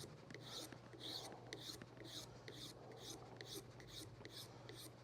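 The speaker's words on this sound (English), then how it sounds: "So just a little bit of filing across there, just like that." A Gretsch guitar saddle is filed with quick, faint rhythmic rasping strokes, about a dozen short scrapes in a steady back-and-forth pattern over a low background hum.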